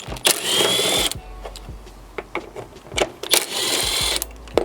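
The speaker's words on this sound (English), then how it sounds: "you have two 8mm bolts here and here. So we're going to go ahead and take them out." A power ratchet or driver backing out two 8mm bolts behind the tail light of a 2008-2015 Honda Pilot with the hatch open, two bursts of buzzing whir separated by light clicks and handling noise.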